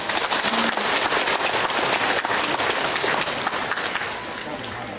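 A hall audience applauds after a student's speech. The thick, energetic clapping is loud at first, with faint voices underneath, and tapers off near the end.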